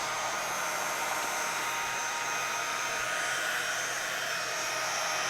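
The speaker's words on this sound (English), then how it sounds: "Now melting, you know how it works, right? Heat tool. Let it heat up a bit." A heat tool blows steadily to melt embossing powder, giving a continuous loud, even whoosh like a hair dryer that holds unchanged throughout with no talking.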